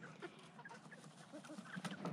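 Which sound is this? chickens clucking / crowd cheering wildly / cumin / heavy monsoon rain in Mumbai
chickens clucking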